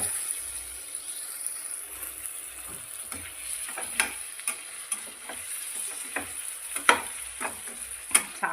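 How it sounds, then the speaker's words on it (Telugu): Chicken liver fries in a covered pan with a steady sizzle, punctuated by irregular scraping taps of a spoon stirring against the metal, close by with no talking. "మూత పెట్టి ఫ్రై అవుతున్నాయి."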